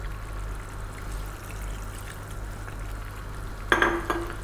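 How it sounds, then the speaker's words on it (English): Water is poured into a pot of lamb potato curry on the stove: a steady low hum, then a short, close splash of pouring near the end. "We're going to add a little bit more water."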